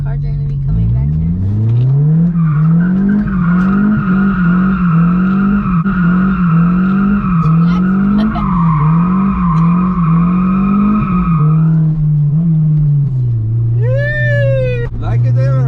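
A modified Honda S2000 spinning donuts, its engine holding a steady wavering drone that rises and falls with each rotation for about twelve seconds, then easing off as a high tire squeal or chirp cuts in near the end; close and loud.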